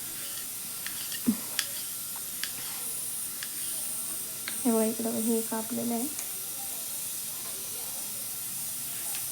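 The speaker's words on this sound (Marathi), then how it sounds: "एकीकडं तुम्हाला कुकरचा आवाज येत असेल" A pressure cooker hisses steam in a home kitchen during basmati rice biryani cooking, a faint steady hiss running beneath a woman's speech and light clinks of kitchen work.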